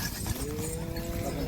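A calf moos in a long, low drawn-out call amid background noise at a bustling cattle and bullock market.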